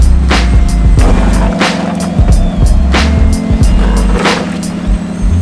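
An Ineos Grenadier reversing on a rocky off-road mountain trail, with a low engine drone, crunching and bumping tires over rocks, and repeated knocks and scrapes, loud and close.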